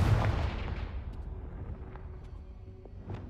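A Confringo fire spell explodes in Hogwarts Legacy, a deep booming blast that hits loud at the start and then rolls away into a long fading rumble, with a few faint crackles trailing after.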